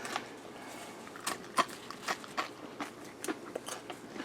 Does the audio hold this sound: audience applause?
no